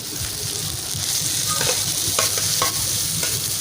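Chopped tomatoes and green chilies frying in a karahi for a spiced chicken and bitter gourd dish, a close, constant sizzle with a few scraping stirs of the spoon against the pan.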